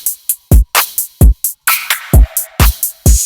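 Punchy electronic beat programmed on a MIDI beat machine, loud booming kicks alternating with snappy hits and hi-hats in a quick steady pattern, up close with no voices.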